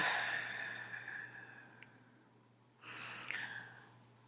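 A congregation at a Sunday celebration service draws in a slow, deep breath together, a soft airy hiss that fades, then a second breathy rush swells after a short pause.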